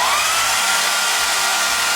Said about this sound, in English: that's why I always just kind of hit it with the blow dryer first.